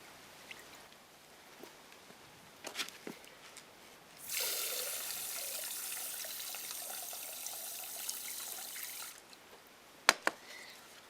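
Fresh water poured out for lizards outdoors, a steady splashing pour lasting about five seconds in the middle, with scattered small knocks and taps before and after.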